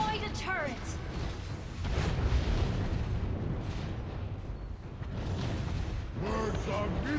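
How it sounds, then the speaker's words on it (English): A turret exploding in a video game, a low rumbling boom under dense game noise and effects, with voices speaking over it throughout. "You destroyed a turret!"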